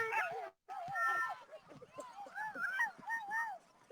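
Sled dogs at the start of a North American championship race let out a burst of excited yelps, whines and barks, loud and close, in overlapping bursts; a voice speaks through much of it.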